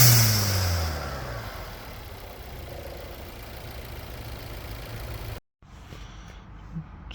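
A VW Golf GTE fitted with a new intake and blow-off valve starts with a loud starter whir and rising engine roar, then settles into a low, steady idle, briefly cut off before the hum resumes.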